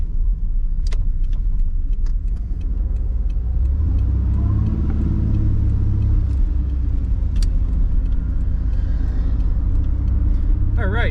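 Engine of a 1986 Nissan 300ZX with an automatic transmission, driving on the road with a steady low rumble and a rise in revs midway, heard from inside the car.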